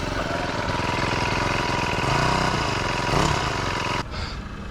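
A gas-powered post driver's small engine idles steadily while warming up with the choke open, a close, continuous mid-pitched chugging that cuts off abruptly near the end.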